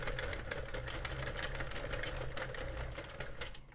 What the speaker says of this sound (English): flip this yarn under this notch, and we're going to knit to the end of the row